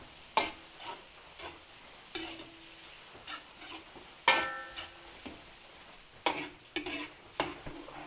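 Chorizo de Bilbao frying with onion in a pan, stirred by hand: a steady soft sizzle broken by repeated clacking scrapes of a utensil against the pan, several sharp knocks near the end, no talk.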